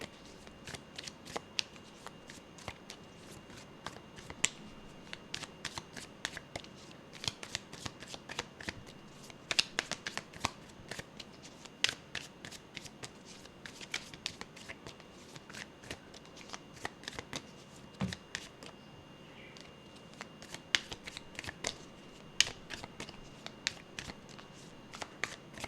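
Tarot cards being shuffled by hand in a quiet room, a long run of crisp riffling flutters and soft slaps with brief pauses, fairly close and alone.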